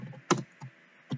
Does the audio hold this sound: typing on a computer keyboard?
yes